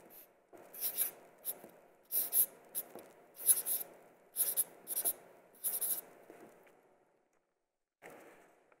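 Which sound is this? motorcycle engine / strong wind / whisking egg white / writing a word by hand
writing a word by hand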